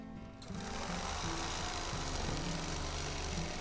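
A sewing machine stitching a crosshatch quilting pattern guided by a ruler, its steady mechanical whir running continuously and loud after a brief quiet start, with no talk.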